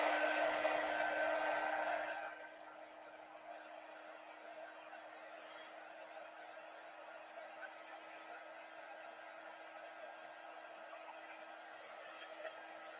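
A hair dryer blows on chalk decorating a bistro board, a loud steady airy rush that cuts off after about two seconds, leaving a quiet room hum with a faint tone.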